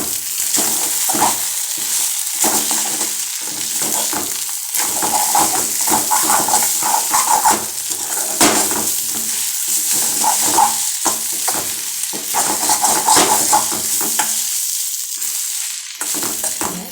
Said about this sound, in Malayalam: കൂടെ നമുക്ക് അങ്ങോട്ട് മിക്സ് ചെയ്യാം